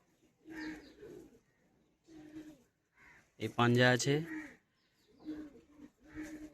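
Madrasi pigeons cooing in short repeated bursts at close range, with someone talking over and between the calls.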